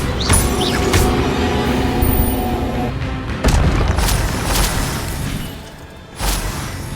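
Magical fire spells cast in a Hogwarts Legacy battle in the Forbidden Forest burst out as loud booming whooshes, several blasts in quick succession over rumbling game ambience, with no talk heard.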